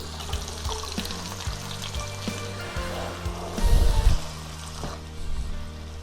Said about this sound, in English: let's take the rest of the beans and let's put it inside the fried pan